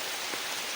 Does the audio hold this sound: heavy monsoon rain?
yes